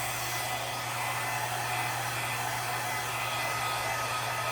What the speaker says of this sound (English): I might turn the hairdryer on high later.